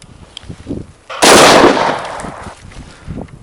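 A single loud, close rifle shot from a Saiga MK 223 fired at roe deer outdoors, a sharp blast with a long rolling echo that slowly fades.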